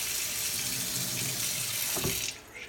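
Cold water runs from a tap over vape coil cotton, a steady close hiss of flowing water that cuts off abruptly near the end.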